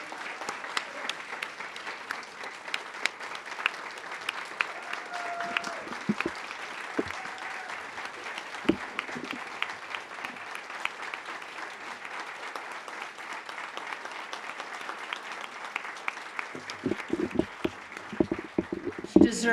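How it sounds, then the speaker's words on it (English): Round of applause from the audience at an annual leadership awards ceremony, scattered claps, moderately distant, continuing steadily with some talk and room noise underneath. "I'd like to ask everyone to join me in a round of applause for Sheila."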